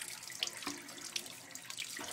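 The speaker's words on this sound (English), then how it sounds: "I take the cold water and I try to get it in all the crevices where all the dirt is." Cold tap water streams steadily from a faucet over a window AC unit filter, a continuous hiss and splash with small fluctuations as the flow hits the mesh, close and moderately loud.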